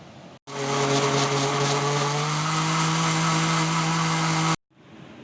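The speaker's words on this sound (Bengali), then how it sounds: "এখন আমি ঢাকনা দিয়ে ঢেকে দিচ্ছি আর এইভাবে 2 মিনিট ব্লেন্ড করে নিব।" A lidded kitchen blender whirs steadily for about four seconds as it purées soaked bread with water, a loud, even motor drone that starts and stops abruptly.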